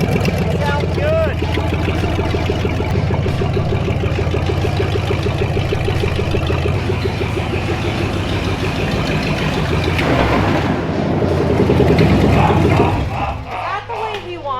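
A Dodge Dakota engine with no exhaust roars loud and raw, steady up close, revving harder toward the end before dropping off, with voices faintly underneath.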